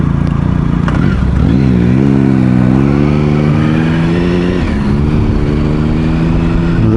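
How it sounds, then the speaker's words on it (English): A motorcycle engine revs loudly and continuously, its pitch climbing and falling as the throttle is worked in traffic to alert inattentive pedestrians, with a close, steady engine drone throughout. "Whack them up with the rev of the engine."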